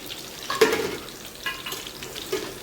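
Green chilli and ivy gourd pieces fry in hot oil in a pan, giving a soft, close sizzle with a few brief louder bursts as they are stirred.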